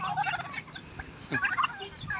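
Turkeys gobble among ducks and chickens on a farm where rice is being harvested. Bursty, rattling gobbles come close and loud, with mixed poultry noise around them.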